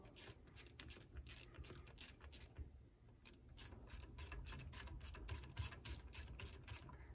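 Repeated ratcheting clicks as an Allen wrench snugs bolts on a 1985 square-body truck, quick bursts of metallic clicking with a brief pause midway, close up.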